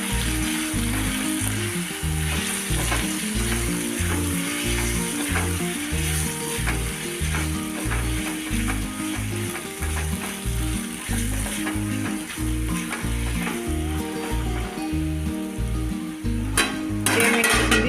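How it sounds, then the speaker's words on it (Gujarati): Sama khichdi with turmeric sizzling in a pan as a spoon stirs and scrapes it in a steady repeating rhythm, close and loud, with a brief clink near the end. "થોડીક હળદર એડ કરી દઈશું બરાબર મિક્સ કરી દઈશું"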